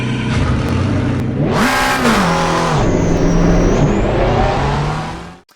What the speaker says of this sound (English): here we are in the McLaren 720S GT3 at Spa-Francorchamps